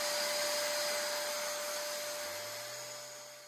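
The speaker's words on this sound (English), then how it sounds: "I'm using a vacuum and a sander, so that's a lot of noise going in there" A vacuum and a sander run together while a stripped bar cabinet is sanded, a steady loud whirring hum with a high-pitched whine that gradually fades as the machines wind down.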